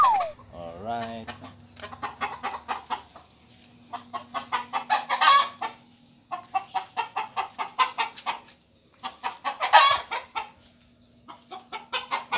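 A hen clucks loudly and close in repeated rhythmic bursts, joined by other fowl noise, with a steady low hum in the background and brief pauses between the runs of clucks.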